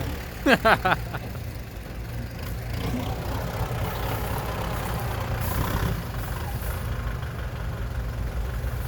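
A truck engine with an orange turbo idles and rumbles steadily while the truck tries to climb out of a mud hole, a low continuous drone with a brief burst of voices near the start.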